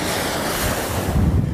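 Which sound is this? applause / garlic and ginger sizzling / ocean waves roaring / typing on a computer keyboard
ocean waves roaring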